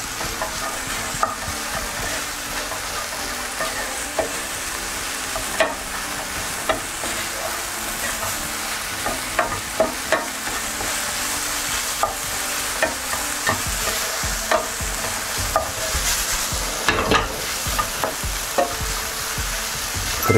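Sliced sweet pumpkin fries in a pan while a utensil stirs it, giving a continuous close sizzle and hiss punctuated by frequent sharp scraping taps over a long stretch, with no talking.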